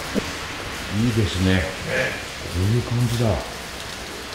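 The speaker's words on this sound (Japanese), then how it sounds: "カメラで雨が見えたら相当 相当降ってるんですよ、これね。" Heavy rain pours steadily at night in Shizuoka, a dense even hiss running throughout, with people talking and reacting over it in the foreground.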